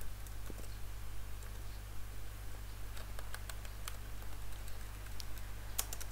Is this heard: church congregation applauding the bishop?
no